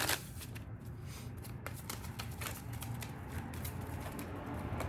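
Tarot cards are shuffled and riffled close by, a steady papery flutter running continuously with a few sharper flicks as cards slip out of the deck.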